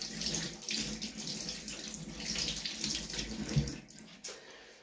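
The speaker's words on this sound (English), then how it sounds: "And so we wash our hands again off camera." Tap water runs steadily into a sink during handwashing in a home kitchen while baking festive sausage rolls, a close, continuous splashing rush with brief shifts in the flow near the end.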